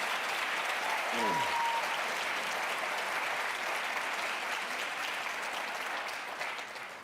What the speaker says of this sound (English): I think this is one time when we ought to just give them both a real round of applause.